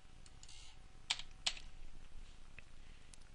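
Typing on a computer keyboard, a few soft key taps with two sharper clicks in a quiet room, close and brief, no talking.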